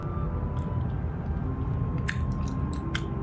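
Close, wet chewing of blueberry-flavoured yogurt with fruit pulp, soft squishy mouth sounds with a few crisp clicks and smacks over steady room noise, no talking.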